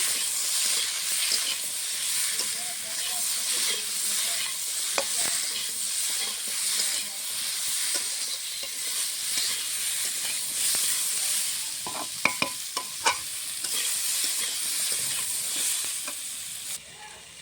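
Vegetables seasoned with salt and turmeric fry in a pan for a vegetarian dal meal, giving a steady close sizzle and hiss with a few scraping stirs partway through.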